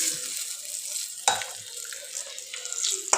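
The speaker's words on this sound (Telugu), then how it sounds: "కాస్త ఫ్రై అవ్వాలి" Steady hissing sizzle of tempering spices frying in about four tablespoons of hot oil, close by, with a brief clatter partway through and no voices.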